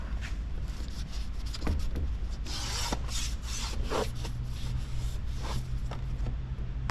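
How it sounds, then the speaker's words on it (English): A wet rear window on a 2024 Jeep Wrangler is scrubbed before tint film goes on, giving continuous close rubbing and squeaky scraping strokes over a low steady background hum. "let's give this a scrub-a-dub-dub"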